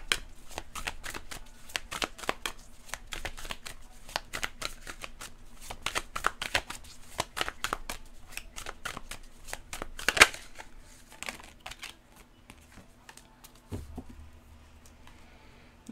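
A deck of tarot cards being shuffled by hand before an advice card is drawn in a reading: a close, continuous run of crisp slaps and riffling flicks for the whole stretch, over a faint steady hum, with no talking.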